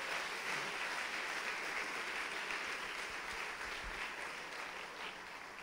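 A church congregation applauds during a Lord's Supper service, a steady, dense wash of clapping that carries on throughout and tapers slightly at the close.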